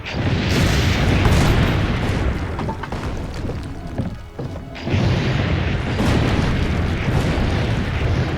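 Cannon fire in Assassin's Creed Brotherhood, a dense run of loud, booming explosions that roll on almost without a break and dip briefly near the middle.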